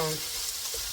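Shrimp sizzle steadily in a pan over medium heat, giving a close, even hiss of frying with a brief low murmur at the start.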